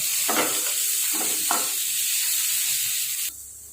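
Onions sautéing in a pan for a soya curry, a steady close sizzle with a few stirring scrapes near the start, then the sizzle drops away abruptly toward the end.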